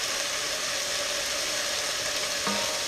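Tomatoes and onions sizzle in a hot pan, a steady, even hiss of frying that holds throughout with a faint clink near the end.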